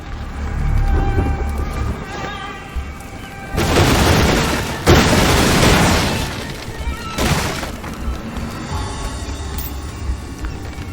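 Chain-reaction destruction set off by the Inflame spell in the video game Graven: heavy booming blasts and shattering crashes in bursts, with creaking debris between them.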